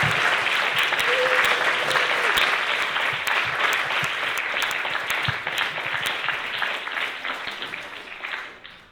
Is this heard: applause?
yes